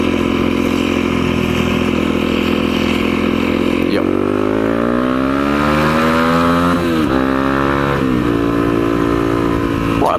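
A Honda CRF 250L rides along a road in the English countryside, its engine loud and up close, rising in pitch as it accelerates through the gears with short dips at each shift, while wind rushes continuously underneath.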